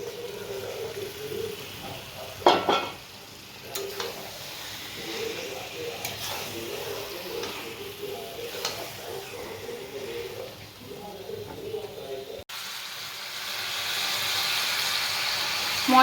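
Mutton being fried and stirred in a thick spice paste in a pan: a steady sizzle runs throughout with rhythmic scraping strokes, a sharp knock near the start, and a brighter hiss toward the end.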